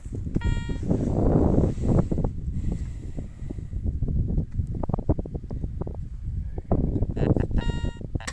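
Tonal electronic metal detector beeps signal a target in a clod of soil at the start and again near the end, over heavy wind rumble and scraping digging noise.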